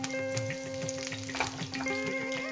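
Curry leaves crackle and sizzle in hot oil, a busy spattering fry with small pops, close and steady for a couple of seconds.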